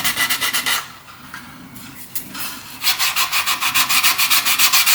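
Rhythmic back-and-forth rubbing strokes as a painted Dalek model is sanded down between undercoats, loud and close, with a brief lull in the middle before the strokes resume.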